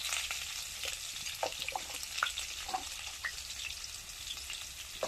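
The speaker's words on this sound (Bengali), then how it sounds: "প্রথমেই দেখো আলুগুলো ভাজা হচ্ছে" Washed potatoes sizzle in hot mustard oil in a wok, a steady frying hiss dotted with quick pops and light scrapes of stirring, moderately close and without talk.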